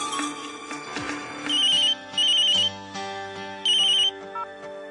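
A telephone ringtone plays alone, repeating bright electronic tone bursts in a steady on-off pattern over a sustained musical backing, with no one talking.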